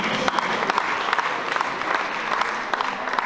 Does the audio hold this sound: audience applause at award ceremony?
yes